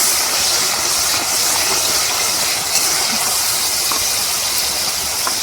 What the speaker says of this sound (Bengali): চিংড়ি মাছের মালাইকারি করার জন্য এই মশলাটা কষানো হচ্ছে